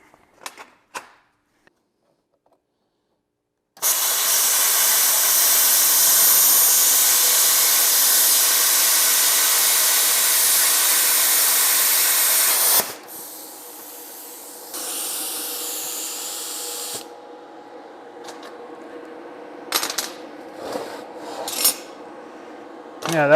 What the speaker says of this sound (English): we should be ready to try and cut some 1/8 inch or so metal